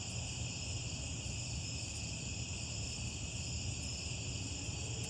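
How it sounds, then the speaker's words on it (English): Crickets chirp in a steady, continuous high trill, layered and unbroken, with a faint low rumble beneath. "crickets chirping, which you can probably pick up on our audio."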